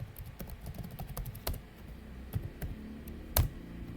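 Computer keyboard typing, quiet irregular key clicks close by, with a few sharper louder keystrokes such as an enter press standing out, no voices.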